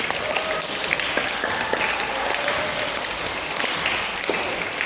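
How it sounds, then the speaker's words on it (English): Audience applause at an infant and primary school carol service, families clapping together in a steady, fairly loud burst that fills the hall throughout. "Give yourself a round of applause."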